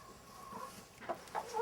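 Chickens on a farm cluck in short, soft bursts toward the end, a little distant, over steady outdoor background noise.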